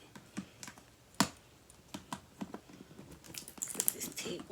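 A package is opened at a table for a makeup unboxing, with scattered sharp clicks and handling taps that build into denser plastic or paper crinkling toward the end.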